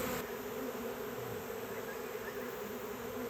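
A disturbed honeybee swarm buzzes steadily at the front of its hive, a dense, continuous droning hum that stays close and loud throughout with no talking.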